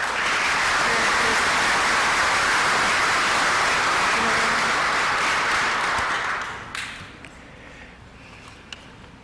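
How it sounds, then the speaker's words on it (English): Audience applause at a civic association annual meeting's award presentation, a dense sustained wash of clapping for about six seconds that then thins out and fades to scattered claps. "Please join me in another round of applause."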